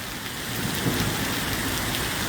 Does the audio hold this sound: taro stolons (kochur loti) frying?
no